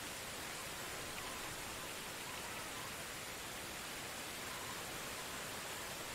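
Steady rain falls in the Medieval Dynasty game world, an even, unbroken hiss of moderate loudness with no other sounds above it.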